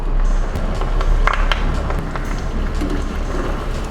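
Potato snack balls frying in hot oil over a medium flame, giving a steady, dense crackling sizzle throughout with a few brief louder pops, close and continuous, no voices.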